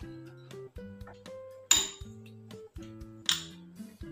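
Spoon clinking against a bowl while mixing masala papad topping of salt and cumin powder, close and crisp, a series of sharp taps with short ringing tones at irregular intervals over quiet background.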